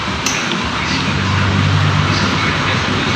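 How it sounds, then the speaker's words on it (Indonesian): A Yamaha Nmax or Aerox scooter engine idles after being started without its remote, a steady, loud, close droning hum with a low rumbling undertone that holds evenly throughout. "Motor pun bisa nyala ya, tanpa remote."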